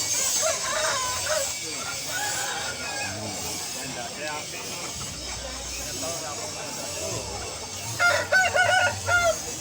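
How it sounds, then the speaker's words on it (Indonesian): A rooster crows among other poultry at a farm beside a blacksmith's area, with steady clucking and background bird noise throughout and a louder burst of crowing near the end. "semacam jago ini, ayam jantan."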